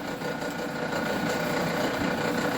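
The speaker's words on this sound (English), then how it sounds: "So right now we're in direct drive, low speed. I'm going to turn it on, show you, turn it off." A Sheldon metal lathe running in direct drive at low speed, a steady low mechanical hum and whir throughout, moderately quiet with no talk.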